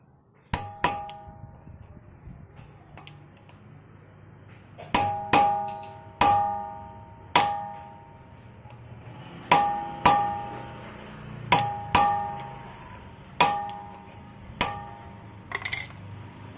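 Repeated hammer blows staking the lock nut on a CV joint of a Suzuki Ertiga's front suspension, a dozen sharp metallic taps in uneven groups, close and ringing, with no talk.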